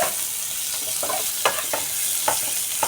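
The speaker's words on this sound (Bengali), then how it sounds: "ডিমটা ভেজে তেল দিয়ে দিলাম, ফোড়নে দিলাম একটা শুকনো লঙ্কা, 2টো তেজপাতা, থেতো করা রসুন" Dry red chilli, two bay leaves, crushed garlic and onion tempering in hot oil for a fenugreek-egg masoor dal, giving a steady close sizzle with a few sharp crackles and stirring scrapes, no voices.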